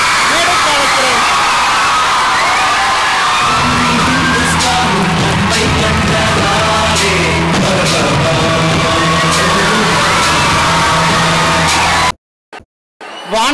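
A large audience in a hall claps and cheers loudly for a speaker on a Tamil TV debate show. Shouts and whoops rise over the sustained applause before it cuts off abruptly.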